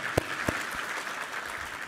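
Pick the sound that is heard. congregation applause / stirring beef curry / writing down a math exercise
congregation applause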